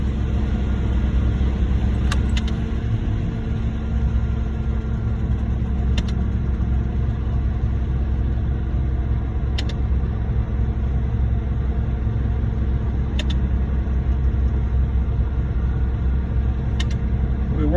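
Diesel engine of a concrete pump truck runs steadily and close at a pour of coal-colored exposed aggregate concrete, a constant low rumble with a few sharp clicks recurring every few seconds.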